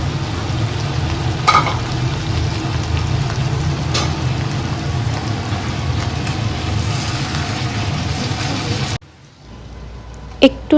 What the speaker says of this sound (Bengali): এবার ভালোভাবে ওই সব মাংসগুলো এক জায়গায় নেড়েচেড়ে নেব